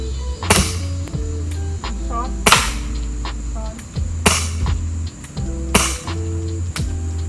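Four sharp BB pistol shots fired at steady intervals of about a second and a half, each a crisp close crack, with mechanical clicks and faint background hum in between.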